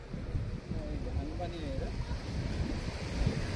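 Wind and sea waves along the seafront at Marine Drive in Mumbai, a steady rushing wash with microphone buffeting and faint voices in the background.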